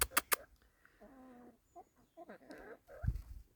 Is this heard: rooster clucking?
yes